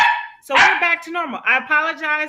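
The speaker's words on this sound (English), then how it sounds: "That's my dog." A pet dog barks in a few sharp, close yips and bow-wows indoors, overlapping with a person talking.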